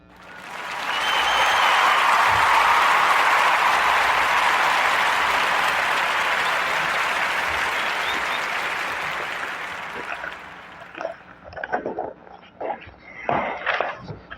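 An audience breaks into warm, full applause that swells quickly, holds loud and dense for several seconds, then thins out into scattered individual claps and small noises before fading.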